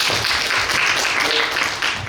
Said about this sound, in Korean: 박수로 교수님 부탁드립니다